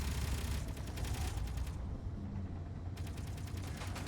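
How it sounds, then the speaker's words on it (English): Sustained automatic gunfire rattles in Space Engineers, fast rhythmic bursts at moderate volume that break off briefly in the middle, leaving a low mechanical hum before the firing resumes. "Yep, I'm still getting shot at."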